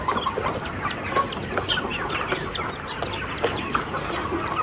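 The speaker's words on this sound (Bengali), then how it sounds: "তো দেখুন মুরগিগুলা" A flock of 58-day-old farm chickens clucks continuously in a dense, overlapping chorus, close and steady with no voices.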